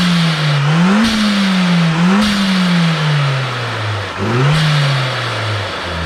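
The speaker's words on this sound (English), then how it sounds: "I've just fitted the blow-off valve the correct way around for him." Toyota Caldina GT4 with a 3SGTE turbo engine revving in steady surges, its note rising and falling close by, with sharp hissing bursts from a newly fitted blow-off valve between revs; no talking.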